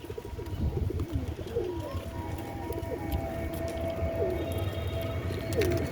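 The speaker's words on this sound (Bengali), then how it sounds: "সব কটা পায়রা বিক্রি আছে।" Pigeons coo repeatedly in a flock kept for sale in Keshtopur, with soft low-pitched warbling calls rising and falling over a steady rustling, crowded background; the coos come at irregular intervals and sit close by.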